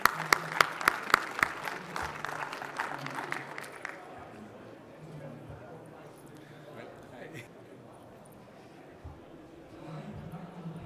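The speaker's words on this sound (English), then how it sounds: "But we can still give him a round of applause." A few sharp, scattered claps at a conference poster award session, loud at first and then trailing off within a few seconds, followed by quieter room noise and a voice talking.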